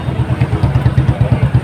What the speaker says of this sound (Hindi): ये मोटरसाइकिल रैली